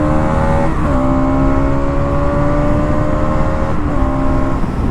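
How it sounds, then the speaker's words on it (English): A motorcycle engine held at a steady high rev, loud and close, with its pitch dipping and climbing again twice as the throttle shifts, no voices over it. "if you're someone who wanted to rev your bike, you see that"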